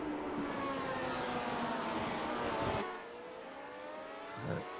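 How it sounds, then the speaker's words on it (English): A classic Lotus Grand Prix car engine in the iRacing game whines at high revs under throttle at Silverstone Historic, pitch shifting as it accelerates, then eases off to a lower steady drone with a brief rev near the end. "Listen to their throttle inputs, being really patient on the gas"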